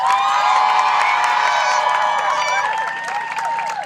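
A rally crowd cheers and applauds loudly and steadily, with whoops and shouting voices over dense clapping throughout, tapering slightly near the end.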